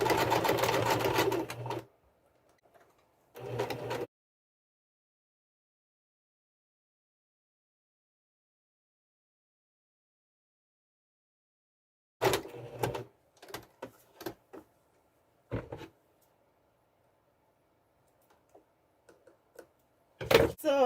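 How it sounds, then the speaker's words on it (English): A sewing machine stitches down the sides of a scarf fabric strip in short, close whirring bursts, a longer run at the start and several brief spurts later, separated by long stretches of silence. "Now we're going back to the sewing machine, and we're not stitching across here."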